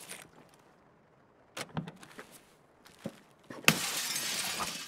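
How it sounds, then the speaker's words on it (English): Glass is smashed in a first-person video game: quiet clatter and scattered knocks build up, then a loud, sudden shatter bursts in near the end and rings on with bright, sustained breaking debris. "I just proper wanted to shit you up by smashing that glass"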